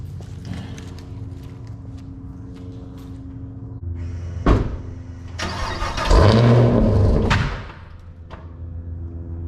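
Motorcycle engine starting after a car wash, a short cranking burst followed by the engine catching into a rough rising roar, then settling to a steady idle, with clacks and rattles around it.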